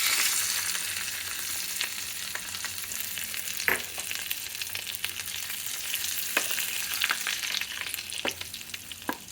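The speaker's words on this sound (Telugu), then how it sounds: "స్టవ్ ఆఫ్ చేసేసి ఇందులో తాళింపు వేసి" Oil with tempering spices for a tomato and fenugreek-leaf chutney sizzles and crackles steadily in a pan nearby, with occasional sharper pops and spatters throughout.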